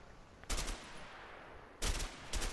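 Burst-fire gun shooting in the video game A Way Out: two sharp clusters of rapid shots, one near the start and one near the end, with a lone shot just before the close, loud and upfront over a low steady background.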